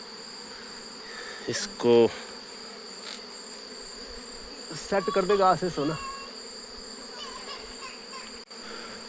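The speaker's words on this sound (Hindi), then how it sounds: "लेकिन फिर भी मधुमक्खी जो है काफ़ी आ चुकी है छत्ते में।" A swarm of honey bees buzzes around a scientific hive box after being brought down from a height, a faint steady hum in the background while someone briefly speaks twice over it.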